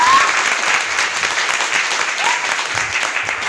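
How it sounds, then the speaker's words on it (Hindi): Meeting audience at a business gathering breaks into loud, sustained applause, a thick wash of many hands clapping continuously from start to finish. "एक बार चाहता हूं उसके लिए जोरदार ताली पर बजा दीजिए"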